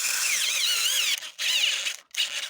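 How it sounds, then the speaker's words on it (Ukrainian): A cordless screwdriver tightens cylinder head nuts on a Tavria engine with a loud, high, wavering motor whine. It runs in three bursts split by two brief stops. "Ось зручно мені ось таким шуруповертом закручувати."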